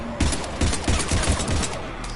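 Rapid gunfire aimed at a Husk in Mass Effect 3, a loud close burst of about seven or eight quick evenly spaced shots over a steady background of battle noise.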